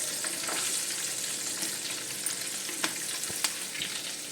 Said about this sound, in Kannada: ಈಗ ಇದಕ್ಕೆ ಕರಿಬೇವು ಹಾಕೊಳ್ಳೋನು.